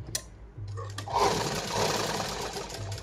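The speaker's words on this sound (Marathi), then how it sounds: "पुन्हा एकदा आपल्याला इथपासून डबल शिलाई घ्यायची" A sewing machine runs a continuous double line of stitching on a four-tuck blouse, a steady whirring hum after a few brief knocks, close and fairly loud with no talk.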